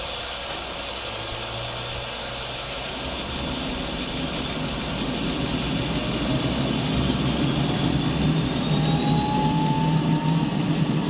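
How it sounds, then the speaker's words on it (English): An aircraft start cart, a large air compressor used to start a jet plane, spins up into a dense, steady roar that grows louder and fuller over several seconds, with rising whine tones and no voices. "this is the star cart starting"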